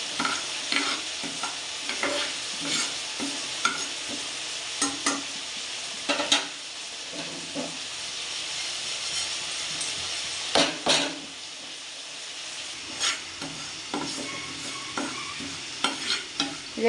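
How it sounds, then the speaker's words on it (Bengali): Lentils fry in a hot nonstick pan, a continuous sizzle broken by repeated scraping and stirring strokes of a utensil against the pan, close and fairly loud. "আমি এবার ডালটা ভেজে নেব"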